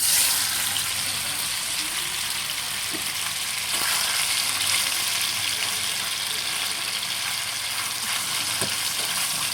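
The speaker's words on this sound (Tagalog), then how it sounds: "Matansik-tansik na naman." Hot oil sizzles and spatters steadily as protein fries in a smoking pan, a dense continuous hiss with a few sharper pops, close and fairly loud throughout.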